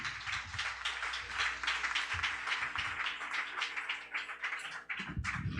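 A church congregation at an Easter service in a Haitian Baptist church claps steadily. The applause is soft and somewhat distant, a sustained patter with a low hum underneath, ending with a few heavier thumps.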